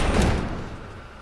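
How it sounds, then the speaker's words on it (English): A door slams shut and is barricaded in The Last of Us video game, one loud, close heavy thud that rings out and fades over about a second, with no talk. "Barricade the door."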